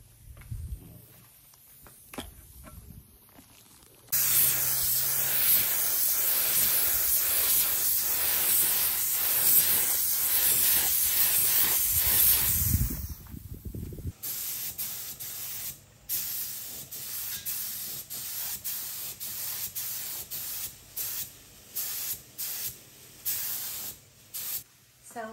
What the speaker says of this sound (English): All right, let's get to spraying.